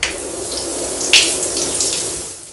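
Water pours steadily from a tap with a bright, hissing rush, close and loud, with a brief splashy burst partway through and no talking.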